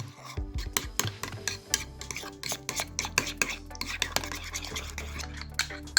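Close-up stirring of a beet salad in a bowl, with rapid scraping and clinking of a utensil against the dish in uneven bursts over a low hum.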